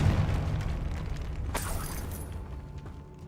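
A Confringo spell blast in Hogwarts Legacy, a single booming explosion bursting out midway through a rumbling in-game background, loud and close with no speech.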